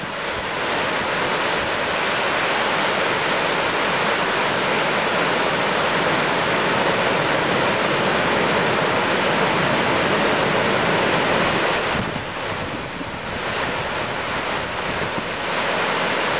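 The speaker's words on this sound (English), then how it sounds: "That is quite a lot of volume of water" A loud, steady roar of a wide waterfall, Lepreau Falls in New Brunswick, dense and unbroken from start to finish, with a brief dip in intensity midway.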